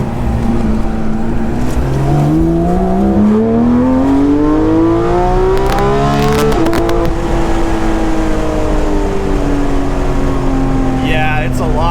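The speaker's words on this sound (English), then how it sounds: "It is so much louder. On wide open throttle, it sounds really good." A Porsche GT3 RS fitted with an MBRP aftermarket exhaust accelerates at wide open throttle, its engine note climbing steadily in pitch as the revs rise, loud and continuous, with a person talking over it.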